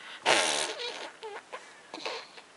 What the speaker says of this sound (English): It's just farts.